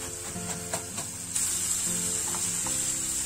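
Mushrooms and finely chopped onion fry together in a pan, a soft crackling sizzle that swells into a bright, steady hiss partway through, with low tonal background sounds underneath.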